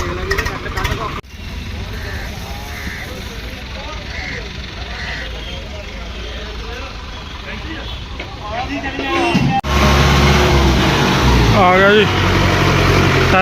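A diesel tractor engine idles steadily throughout, growing louder and closer toward the end, with people talking over the rumble, at a Sutlej River embankment.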